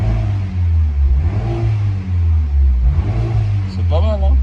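A small 1.3-litre automatic car engine revs up in steady rising and falling surges, a loud low drone close by, with someone talking over it.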